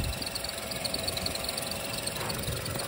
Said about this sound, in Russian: В целом двигатель работает ровно.